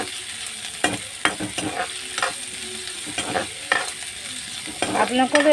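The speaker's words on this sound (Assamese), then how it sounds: "নহৰু আৰু আদা দিম।" Garlic and ginger fry in hot oil with onions, giving a continuous close sizzle broken by repeated scraping and clinking stirs at an uneven pace, busiest near the end.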